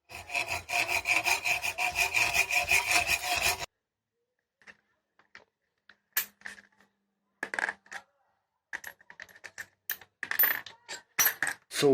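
A saw cuts through the gear shifter of a DIY ground vehicle, a steady rasping stroke for several seconds, followed by scattered clinks, scrapes and handling noises with gaps of quiet.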